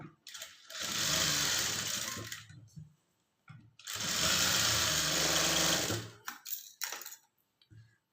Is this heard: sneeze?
no